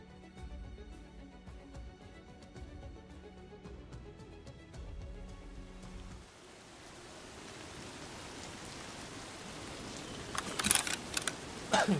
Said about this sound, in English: Okay, raining out of nowhere.